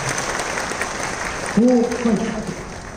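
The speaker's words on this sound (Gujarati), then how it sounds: "તાળીઓથી આપણે સૌ એને વધાવીશું" An audience at a gathering claps to welcome a joint police commissioner, a steady dense patter of hands throughout, with a voice briefly rising above it midway.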